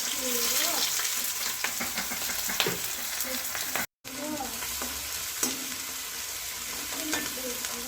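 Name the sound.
onion and garlic sautéing in hot oil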